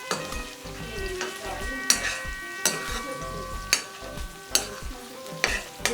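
Onions frying in a pan and stirred, a steady close sizzle broken by regular scraping strokes of a utensil about once a second.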